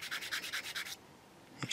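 A spongy sanding stick rubs a curved plastic part on a Takom Chieftain Mk.10 scale tank model, giving about eight quick, soft back-and-forth scratches close up, then a pause and a brief rustle.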